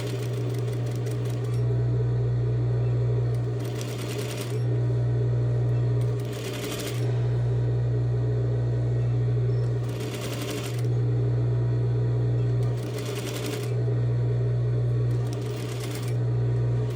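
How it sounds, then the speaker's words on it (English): A sewing machine stitches a seam sample, back stitching at its start and end, in a close, steady whirring hum broken by several short pauses and restarts as the stitching changes direction. "Stitching and back stitching at the beginning and end."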